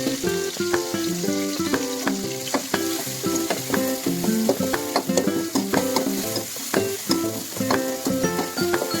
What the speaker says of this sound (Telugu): ఇలా వేసుకొని కొద్దిగా బ్రౌన్ కలర్ వచ్చే వరకు వేయించుకోవాలి ఫ్రెండ్స్